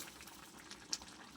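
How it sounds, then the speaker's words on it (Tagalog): Pork humba sauce with sugar and vinegar bubbles in a pot, a soft continuous simmer heard up close and alone. "Habang siya po ay kumukulo."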